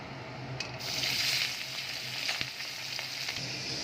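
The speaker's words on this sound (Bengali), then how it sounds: "এবার আমি চিংড়ি মাছগুলোকে ভেজে নেব" Prawns fry in hot oil in a wok, a close, steady sizzle with brief crackles and a few soft scrapes, swelling slightly after the first second and carrying on alone.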